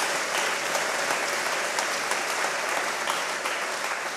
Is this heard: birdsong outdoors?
no